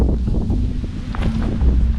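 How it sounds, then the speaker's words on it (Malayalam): Strong wind blows at the Nelliyampathy hill viewpoint and buffets the microphone with a steady, dense low rumble and gusty roar that continues throughout. "ഇവിടെ നല്ല കാറ്റാ"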